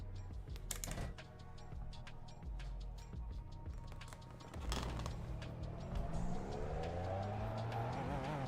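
Race car engine revving below the rev limiter, a rising whine that climbs steadily in pitch over the second half, with clicks and rattles early on, heard at moderate distance.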